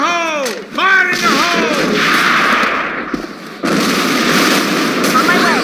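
Grenade blast in the A.V.A video game: a loud, close boom with rumbling noise and debris hiss that sustains, followed by another burst, with a shouted voice and gunfire at the start.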